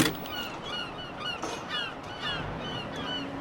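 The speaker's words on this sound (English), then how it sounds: "they make a nice honking noise, and DumpDaze knows this and celebrates them" Repeated honking calls from geese, several nasal honks in a loose series against quiet outdoor background noise.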